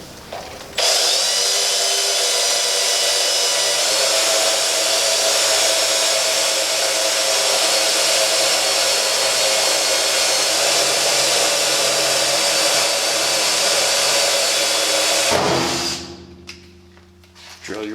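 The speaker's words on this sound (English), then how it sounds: "Turn on the vacuum. Catch as much crap as you can right now." A shop vacuum roars loud and steady while a pilot hole is drilled into a fuel tank for an in-tank fuel pump, holding one unbroken drone before cutting off near the end.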